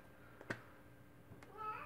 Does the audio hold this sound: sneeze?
no